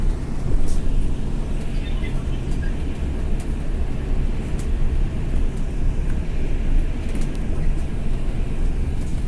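Airport shuttle bus pulling away from a stop, a steady low engine rumble and road noise heard from inside the cabin, continuous and fairly loud with faint rattles and no talking.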